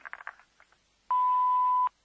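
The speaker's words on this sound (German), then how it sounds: "Bitte sprechen Sie nach dem Signalton." An answering machine in a German radio crime drama gives its signal tone, a single steady beep lasting under a second, preceded by a few faint short chirps.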